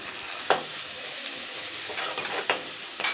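Mustard seeds and garlic with curry leaves crackle and sizzle steadily in hot oil, with a few sharp stirring knocks against the pan, close and moderately loud with no talking.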